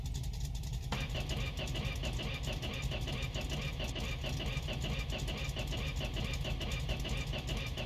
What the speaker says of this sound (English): Let's see if it'll even start.